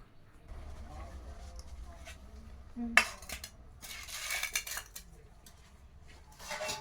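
Dishes and cutlery clink as two people sit down together to eat a home meal, with sporadic quiet scrapes and taps and one sharper clink standing out, over a low background.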